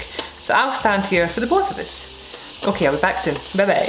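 Applesauce sizzles as it bubbles out of pie pastry while cooking, a steady frying hiss running beneath a person talking close by.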